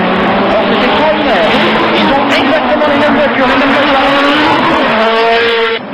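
Renault 21 Turbo Superproduction race cars lap a circuit during test sessions, their loud engines roaring and shifting pitch as they pass close by, with a narrator's voice over the noise.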